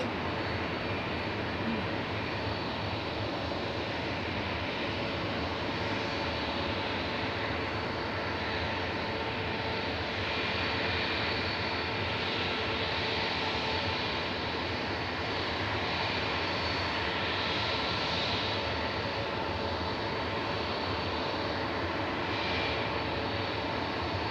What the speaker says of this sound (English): next up then we've got a Ryanair. It's going to Brussels, Boeing 737-800